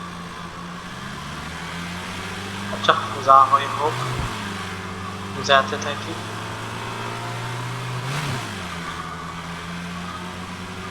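In the driving simulator game Drive Beyond Horizons, a car engine gives a low, steady drone that runs continuously while someone talks over it.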